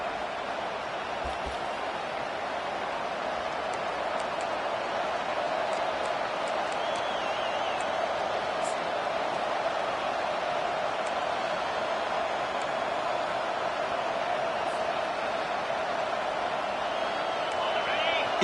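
Steady roar of a stadium crowd at a South Carolina Gamecocks college football game in a video game, continuous and dense throughout, with faint whistles and cheers rising above the wash.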